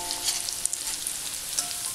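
Red spinach kofta balls coated with cornflour deep-frying in hot oil, a close, steady crackling sizzle with small bursting pops throughout, heard with no voices.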